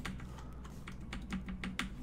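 Rapid computer keyboard typing with irregular clicks and key taps spread across the whole stretch, fairly close and steady, alone with no talk, during play of the game Dead Island.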